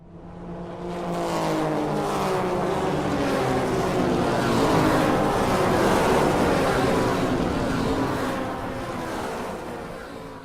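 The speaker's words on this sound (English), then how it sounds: "Kyle Busch is already revving the engine on his Rolex 24 a few days early" A powerful race car engine for the Rolex 24 roars steadily for several seconds, rising and holding at a loud, continuous pitch before easing slightly at the end; no talking.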